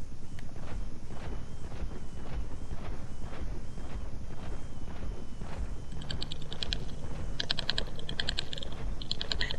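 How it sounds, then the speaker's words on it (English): Computer keyboard clatter in an online game, a steady run of quick keystrokes with irregular rhythm, close and moderately loud over a constant background hum, with brighter clicking bursts toward the end. "I hear your keyboard, yeah."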